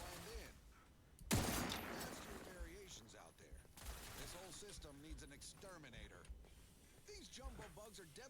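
Gunfire in The Outer Worlds 2 during a fight with spider creatures opens with a sharp, loud burst, followed by scattered shots and mechanical clatter mixed under ongoing character dialogue.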